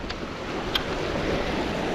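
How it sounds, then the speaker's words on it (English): Water splashing and rushing against the hull of a small boat driven by a quiet Newport NT600 electric outboard, with wind noise and no audible motor whine. "Just hear the noise of the water, but you don't hear the motor."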